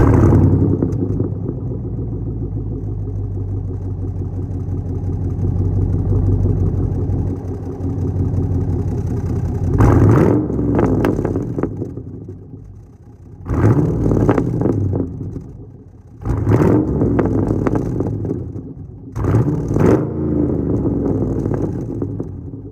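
Pontiac G8 GT running in and around Kettering, a steady low engine drone that swells into several short louder revving bursts with brief dips between, close and prominent with no voices.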